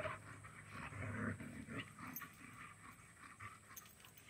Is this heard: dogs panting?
yes